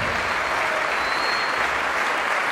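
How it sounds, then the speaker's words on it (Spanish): An audience applauds a pair of tango dancers after their performance, a dense, even roar of clapping that carries on unbroken at full strength, with no voices heard. "Que no cesen los aplausos para estos grandes de nuestra danza."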